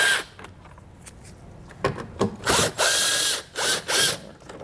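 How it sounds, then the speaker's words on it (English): Loosening tail light screws on a 2019 Chevrolet Equinox with a T15 Torx bit: several short, sharp ratcheting bursts with brief pauses between them, close up and fairly loud, no talking. "that'll expose a screw. It's a T15 Torx bit."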